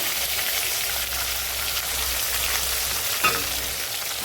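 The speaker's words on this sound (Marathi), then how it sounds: "आणि कसं वाजायलंय फ्रेंड वांग, बघितलं का?" Stuffed brinjal fries in a pan, giving a steady, close, fairly loud sizzle with a single soft knock near the end.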